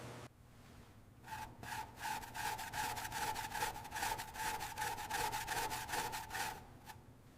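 Scrubbing of baked-on grime on the black and burgundy painted carriage of a 1903 Oldsmobile Model R Curved Dash: close, steady back-and-forth rubbing strokes in a fast rhythm, with a brief pause near the start and end.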